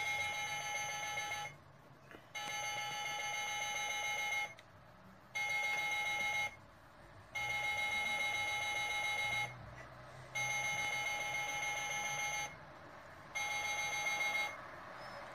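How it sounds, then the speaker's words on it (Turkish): A digital illuminated wall clock's alarm beeps in repeated bursts about two seconds long, separated by short gaps, steady and moderately loud with no voices. "Alarmı susturmak için set tuşuna basarsınız"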